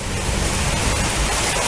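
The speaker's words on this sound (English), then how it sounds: "just started pouring down." Heavy rain pours down outside a workshop in a dense, continuous roar of falling water, loud and steady with no voices.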